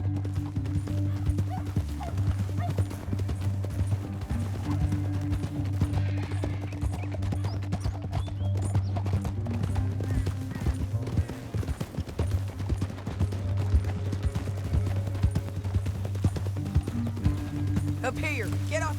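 Rhythmic clip-clop of horses' hooves galloping steadily in the video game Red Dead Redemption 2, alongside a low droning hum and music-like tones, with speech mixed in at times.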